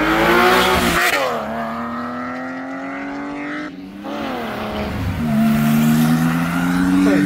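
A Porsche 996 sports car accelerates hard and loud at a supercar meeting, its engine note climbing through gears with rising harmonics and a brief dip near the middle, close and continuous.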